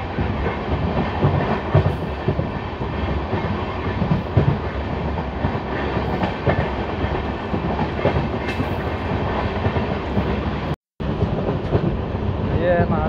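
Lalkuan–Howrah passenger train rolling steadily on rails on its first run toward Puranpur, a loud continuous rumble with clickety-clack of the wagons throughout, briefly cut near the end.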